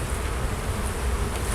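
Honey bees swarm and buzz steadily at an open urban beehive during a spring inspection, a dense, close, continuous drone with no talk over it.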